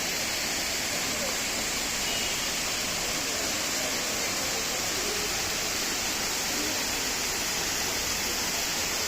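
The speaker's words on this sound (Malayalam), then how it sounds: "ഇതാണ് നമ്മുടെ കുട്ടിക്കാനം വെള്ളച്ചാട്ടം." Kuttikkanam waterfall in Idukki district roars as a steady, broad rushing wash of falling water, constant and fairly loud throughout, with faint voices of a tourist crowd mixed in.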